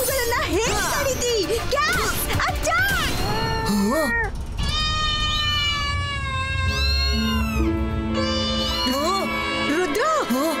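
Cartoon cats meow loudly and repeatedly, with rising and falling yowls that overlap with children's voices talking, and a sustained musical tone partway through.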